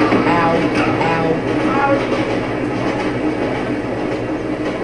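A train rolls past in the video game MX vs ATV, a loud continuous rumble with rail clatter that eases slightly toward the end.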